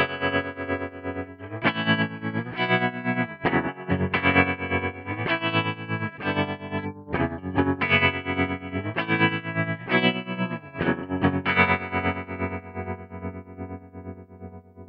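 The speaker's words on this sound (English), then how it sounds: "the Duo Trem, that has 2 tremolos in series that allow you to create some cool rhythmic tremolo patterns." Electric guitar played through a Hardwire TR-7 pedal in its Duo Trem mode, with two tremolos in series chopping sustained distorted chords into choppy rhythmic pulses. The playing is loud, close and continuous, with no talking.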